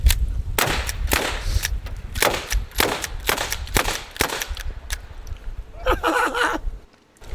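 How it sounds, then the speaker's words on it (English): Rapid suppressed .380 ACP pistol shots slam-fired into windshields, a fast series of sharp, close cracks spaced unevenly with brief gaps, followed by a short clattering burst near the end. "how about a little bit of slam fire into these windshields?"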